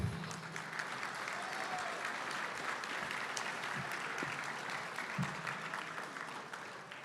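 An audience at a formal awards dinner gives the band a round of applause, a sustained, even wash of clapping that holds steady across the hall and eases slightly at the end.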